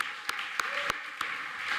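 Audience applause at an awards ceremony, a dense wash of clapping from a crowd heard at moderate distance, steady throughout with a few sharper individual claps standing out.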